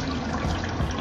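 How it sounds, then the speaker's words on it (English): A toilet flushes close by in a loud, continuous rush of water that lasts the whole moment, with no voices. "flush this shit"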